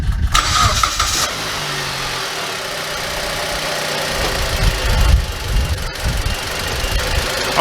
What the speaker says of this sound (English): let me start the car up now